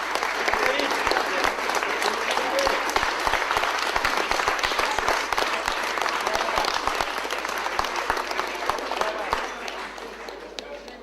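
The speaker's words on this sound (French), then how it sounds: "On se met debout pour m'applaudir" Loud, sustained applause from a lecture audience in Ormersviller, dense clapping that stays strong and gradually eases slightly toward the end.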